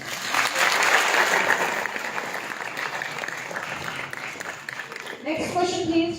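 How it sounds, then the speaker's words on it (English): Children and adults at the Shimla Book Fair 2022 clap together in a dense, steady round of applause that fades slightly, then gives way to a voice speaking near the end. "Yay, clapping"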